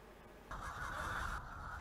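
Laying hens on a poultry farm of nearly 5,000 birds cluck and squawk as a dense, faint crowd murmur, with a brief louder swell of calls in the middle, and no talking.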